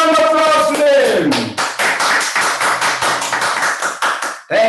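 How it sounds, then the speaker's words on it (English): Applause from an audience at a peace festival, honouring a performance by a sister and a second-generation member from Nepal. A dense patter of claps fills the hall, following a sustained sung or held tone that fades out at the start. "Please give a round of applause to them."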